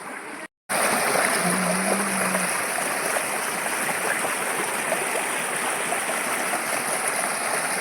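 Stream water flowing at Naneghat in the Western Ghats, a steady broadband rush that runs unbroken after a brief cut near the start.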